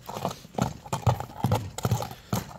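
A horse walks with steady clip-clop hoofbeats, about six or seven distinct thuds at an even pace, fairly close and moderately loud, with no talking over them.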